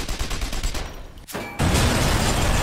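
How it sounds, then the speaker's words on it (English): Machine gun fire at a Flak 88 in the video game Sniper Elite 3: a rapid burst of loud shots, a brief lull with a sharp crack, then a sustained roaring blast as the gun is destroyed. "we're gonna take out that Flak 88 with the machine gun."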